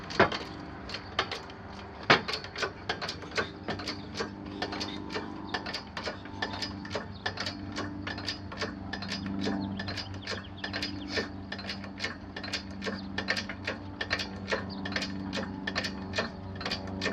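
A motorcycle lift raising a heavy subcompact lawn tractor gives a long series of sharp, evenly spaced ratchet clicks, close and steady, over a low mechanical hum throughout.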